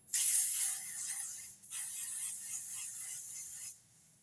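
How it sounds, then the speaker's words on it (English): Two hissing bursts of a L'Oreal Infallible makeup setting spray bottle, the first about a second and a half long and the second about two seconds, close and crisp with a brief pause between. "So now I'm going to go in and spray it with the Infallible by L'Oreal."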